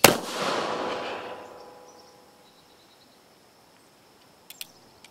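A Colt 1860 black-powder cap-and-ball revolver fires a single Kerr bullet from Slix shot nipples at an outdoor range. One sharp, loud report rings out and decays over about two seconds, and faint clicks follow near the end.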